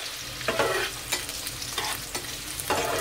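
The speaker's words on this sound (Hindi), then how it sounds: "अब प्याज को थोड़ा सा फ्राई करेंगे।" Chopped onion frying in oil in a pan for vegetable chow mein, stirred and scraped with a spatula in several distinct strokes over a steady close sizzle.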